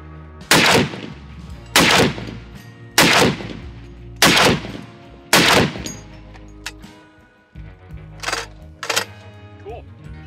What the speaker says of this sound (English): So we're shooting it with this, the Trijicon 50 cal optic.